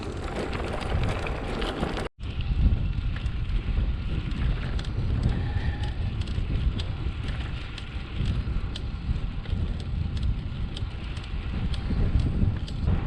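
Strong coastal wind on the Île de Ré near La Rochelle buffets the microphone in a steady low roar throughout, with one brief dropout near the start.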